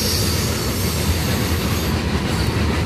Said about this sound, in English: And there goes the coal train that's going westbound.